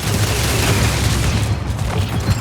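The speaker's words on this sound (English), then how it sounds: "activates shoulder-mounted missile pods that fire heat-seeking missiles" Shoulder-mounted missile pods in the video game Marathon fire heat-seeking missiles, a dense, continuous barrage of booming launches and blasts layered into one loud, rumbling roar.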